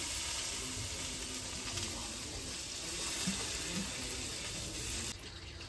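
Water is poured into a hot pan of fried spice paste, cooked after onions were fried, giving a loud, steady rushing hiss and sizzle for about five seconds before it cuts off abruptly.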